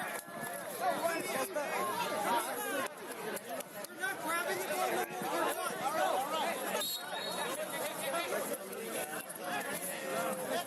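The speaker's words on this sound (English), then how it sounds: "And you can hear the crowd not thrilled with that." Crowd at a United Premier Soccer League match between Detroit City FC II and FCY New York, a steady wash of restless murmuring and grumbling throughout, with a commentator's voice over it.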